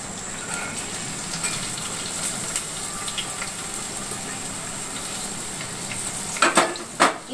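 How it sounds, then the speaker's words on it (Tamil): Green beans and carrots sauté in a pan, giving a steady, gentle sizzle with a few louder stirring clatters near the end. "இப்போ இதை நம்ம மறுபடியும் வதக்கிடணும். நல்லா கொஞ்சம் இது ப்ரௌனிஷ் ஆகிற வரைக்கும் நல்லா நம்ம வதக்கிக்கலாம்."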